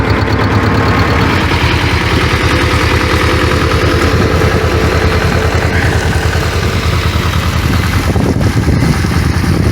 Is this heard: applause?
no